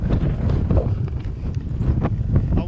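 Steady, close wind buffeting the microphone at Rhuddlan Castle, a ruined medieval castle begun by Edward I in 1277, on a windy day as rain starts; continuous low rumbling roar throughout with no talk.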